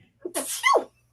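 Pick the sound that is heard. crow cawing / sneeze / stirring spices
sneeze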